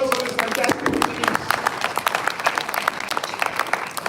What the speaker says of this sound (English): Can you have a bigger round of applause for this fantastic quizzing?